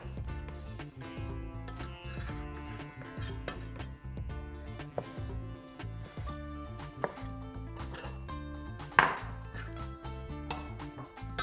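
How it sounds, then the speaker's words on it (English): A knife cuts wild salmon into large chunks on a board, with a steady run of close, crisp chopping knocks and light clinks, loudest in a sharp hit near the end, with no talk. "Got some wild salmon here, great colour on it. I'm just going to go into large chunks."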